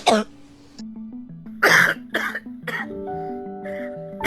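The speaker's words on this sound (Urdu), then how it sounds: "یہ صرف خشک کھانسی ہوتی ہے" Several dry coughs, given as a symptom of coronavirus disease, come as short harsh bursts spaced irregularly over soft background music with sustained tones.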